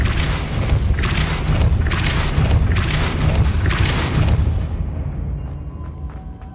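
Repeated heavy magical blasts from the Depulso force spell in Hogwarts Legacy, four or five loud booming bursts at a steady rhythm, then the rumble fades out into quiet game ambience with faint chimes.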